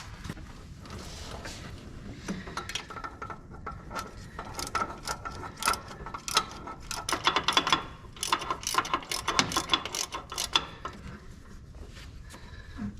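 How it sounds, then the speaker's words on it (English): A ratchet tightening the exhaust manifold bolts on a Ford 5.4 engine, bursts of rapid metallic clicking that come and go in irregular runs, close and fairly loud, with short pauses between. "it's time to get these torqued down"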